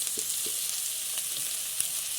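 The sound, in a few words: chopped onions and green chillies frying and stirred in pan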